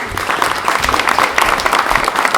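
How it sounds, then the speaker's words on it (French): A theatre audience at a staging of Corneille's Le Cid applauds steadily, a dense wash of clapping hands that holds at full strength from start to finish. "Sous vos applaudissements, mesdames et messieurs."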